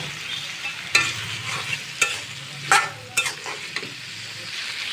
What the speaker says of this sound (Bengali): এখন আমি বেগুন আলুগুলো আমি দিয়ে দিব।